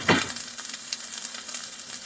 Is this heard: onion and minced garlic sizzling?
yes